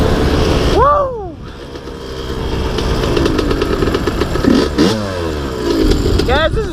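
A 125 dirt bike engine revs hard in mud, loud and close, with sharp rising and falling throttle blips over a rough, rumbling idle and wind buffeting.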